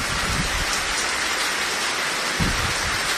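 Heavy rain pours in Abohar with strong wind, a dense, steady hiss of downpour with occasional low rumbles beneath it, no voices.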